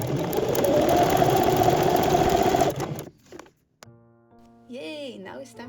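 Sewing machine running steadily through pinned fabric, a loud continuous motor whir with a fast needle rattle for about three seconds before it stops, followed by a brief musical chime.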